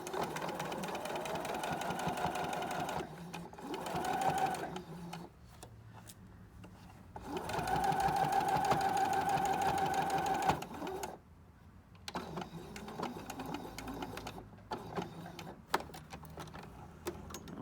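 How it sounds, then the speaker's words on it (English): A sewing machine stitches a seam in a fleece hat, stitching forward and then in reverse to lock it. The motor runs in a close, steady buzz that stops and starts several times, with short pauses and clicks between runs. "Couple stitches forward, couple reverse stitches to lock that seam together."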